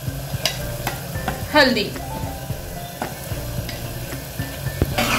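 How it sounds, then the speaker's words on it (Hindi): Ginger-garlic, green chili paste, salt and turmeric are mixed in a hot pan, giving a steady close sizzle with repeated spoon scrapes and clicks, and a voice speaks briefly. "इसे अच्छे से मिक्स कर लीजिए।"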